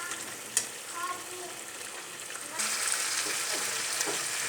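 Chicken roast frying in a pan as it is stirred, with a soft sizzle and occasional utensil scrapes and clicks, the frying hiss growing brighter and louder midway.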